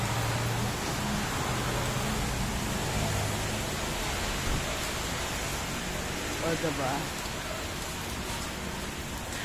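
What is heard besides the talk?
heavy rain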